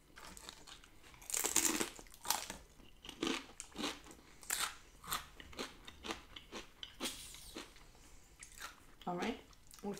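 Chocolate peanut butter energy balls being bitten and chewed up close, with sharp crunchy bites followed by a steady run of wet chewing. Soft, quiet, with no talking.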